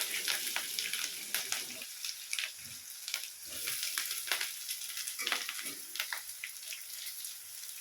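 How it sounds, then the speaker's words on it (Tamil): Chopped shallots and green chilies sautéing in a pan for a Tamil egg fry, giving a steady crackling sizzle with scattered pops and stirring scrapes, close and moderately loud, with no talking. "பச்சை மிளகாயும் கொஞ்ச நேரம் வதக்கி சின்ன வெங்காயத்தை போடுங்க"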